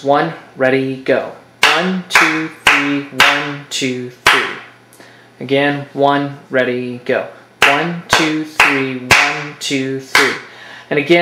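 Crisp, close hand claps keep a 3/8 rhythm in repeated sets of three beats, with a voice counting and cueing between and over the claps.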